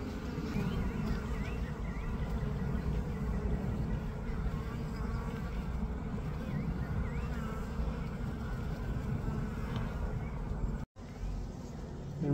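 A honey bee colony inside a hive at a New Jersey apiary in April gives off a dense, steady buzzing drone. The sound is close and continuous, with only one brief dropout near the end.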